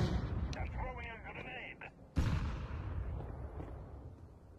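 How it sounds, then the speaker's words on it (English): A grenade thrown and going off in Counter-Strike 2, a sudden loud blast cutting in after a stretch of player voice chat, followed by a decaying rumble and lingering in-game noise. "Throwing a grenade."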